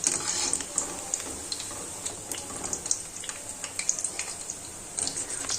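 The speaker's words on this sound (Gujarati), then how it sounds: "તો આ રીતના આપણે એકદમ સરસ રીતે ક્રિસ્પી થાય ને ત્યાં સુધી તળી લેશું બધા જ ભજીયા છે તેને" Mung dal bhajiya fritters frying in hot oil until crisp, a steady soft bubbling sizzle with faint scattered clicks, no talking.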